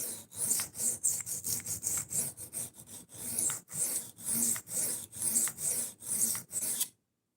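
A knife is sharpened on an Atoma 140 diamond plate with brisk, rasping back-and-forth strokes, about two per second and close up. The gritty scrapes repeat steadily for seven seconds with no talk.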